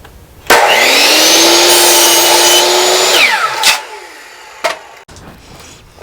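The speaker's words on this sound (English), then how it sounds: "Now we can just scoot the boards up and chop them all at the same" Power saw crosscutting wooden boards to length against a 2x4 stop block for raised garden beds: a loud whine spins up and rips through the wood for about three seconds, then winds down, followed by a couple of sharp knocks.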